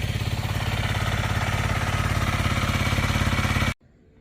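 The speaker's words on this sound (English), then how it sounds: "Super quiet and tight. That's the way Hondas sound." A Honda CRF 300L motorcycle engine idles close by with a quiet, tight, even thump that stays steady for several seconds before cutting off abruptly to near silence.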